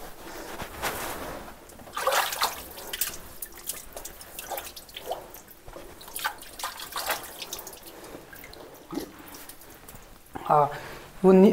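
Water trickles and drips from a temple spring in irregular splashes, with people talking intermittently close by.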